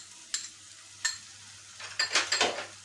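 Beaten sour yogurt thinned with water goes into chicken in a hot pan for doi murgi, bringing two sharp spoon clinks and then a burst of crackling sizzle as the liquid hits the hot pan.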